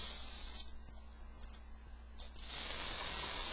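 An airbrush hisses in steady bursts as it sprays out paint, with a longer continuous hiss starting partway through and running to the end.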